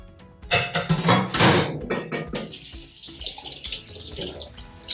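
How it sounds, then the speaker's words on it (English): Running tap water splashes over hands being rinsed at a kitchen sink during cooking, a loud, close, uneven flow with a few clinks and brief gaps. "Rinse my hands off a little bit here."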